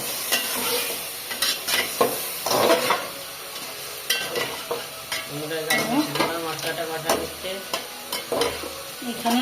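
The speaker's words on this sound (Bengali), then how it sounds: "এরকম মশলা কষাই নিয়ে ভালো করে, আর এই মশলাটা ওই যখন কষাই নিচ্ছি।" Spice masala sautéing in a hot frying pan, a continuous loud sizzle with repeated scraping stirs of a spatula, close up, and a few faint clinks against the pan.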